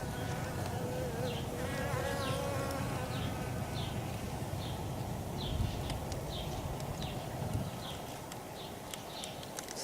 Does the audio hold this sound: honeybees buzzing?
yes